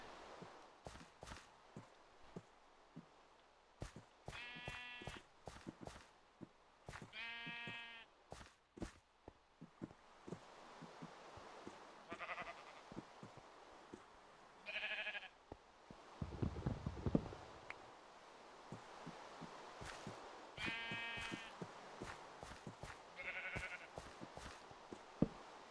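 Sheep bleat in the video game Minecraft: several short, wavering bleats at scattered moments over quiet footsteps and soft in-game sounds, with one low rumble in the middle.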